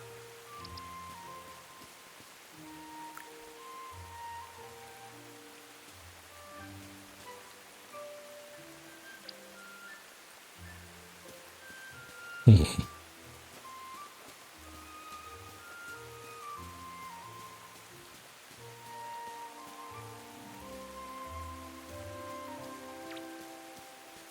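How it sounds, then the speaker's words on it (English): Rain falls steadily in the video game Tales of the Shire, a soft, even patter that continues throughout, broken by a single sharp knock near the middle. "The rain should water the stuff."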